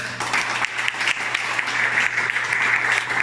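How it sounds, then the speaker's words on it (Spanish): A church congregation applauds during an evening service, a sustained, dense crowd of clapping hands, loud and even throughout, with a low steady hum beneath. "un aplauso al Señor"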